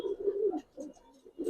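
A Jabra giribaz pigeon coos close by in soft, throaty, repeated low calls with brief gaps between phrases, heard alone with no talking.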